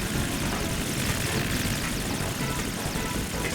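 Loud, continuous rotor and engine roar of a helicopter in the video game Metal Gear Solid 2: Sons of Liberty, steady and close, with no voices.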